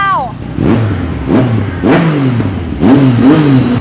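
A Yamaha MT-09 motorcycle at a used bike auction revs in four sharp throttle blips, each rising and falling, loud and close, while a voice talks in the background.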